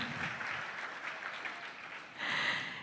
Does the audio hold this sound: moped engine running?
no